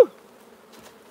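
A sharp knock opens, then a faint, steady drone of honey bees swarming over an open hive continues quietly, with another soft bump at the end.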